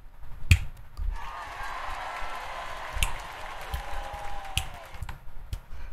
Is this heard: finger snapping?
yes